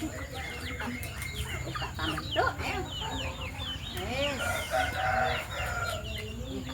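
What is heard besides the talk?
chickens clucking and rooster crowing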